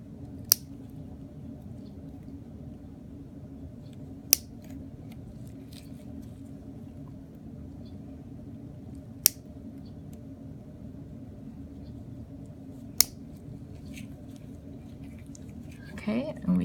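Nail clippers trim toenails as part of medical foot care, giving four sharp, isolated clicks spaced several seconds apart over a steady low background hum. The clicks are close and crisp, with a brief rustle at the end.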